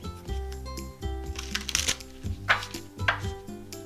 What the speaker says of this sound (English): what I'm shuffling right now is The Yogic Path by Sahara Rose